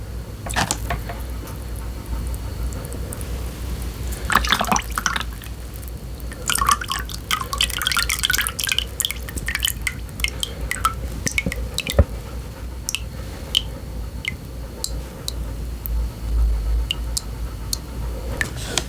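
Grease from cooked ground beef drips and trickles steadily, with wet squishy patters and soft splashes over a continuous low background hum.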